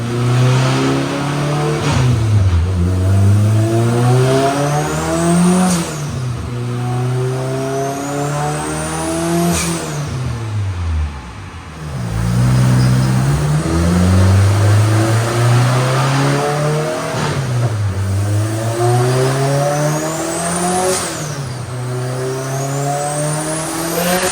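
A loud turbocharged Honda S2000 engine revs on a dyno up to 6,000 RPM, climbing to a high whine and dropping back in long sweeping cycles, close and continuous without talk.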